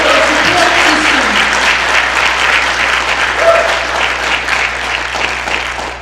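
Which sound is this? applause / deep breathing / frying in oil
applause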